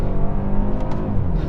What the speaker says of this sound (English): Coming out of the corner in second gear, boom, there's the power.